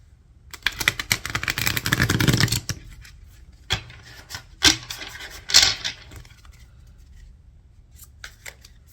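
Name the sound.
shuffling playing cards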